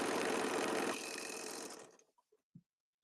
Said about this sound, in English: Just sewing the ribbon on.